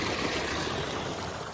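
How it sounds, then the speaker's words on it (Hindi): An electric water pump motor runs nonstop in dry weather, pushing out cold water; a steady, broad rush of flowing water with continuous churning, close and even. "ये दिन रात मोटर अब चल रही है"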